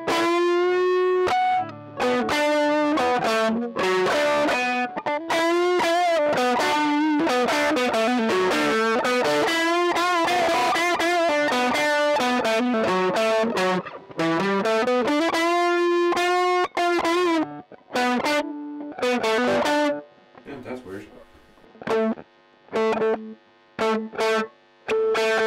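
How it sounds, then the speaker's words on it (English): Electric guitar through a heavy Mooer Solo distortion pedal, thick sustained notes and bends ringing out loudly, then thinning into separate picked notes near the end. "From the distortion pedal, which is the solo."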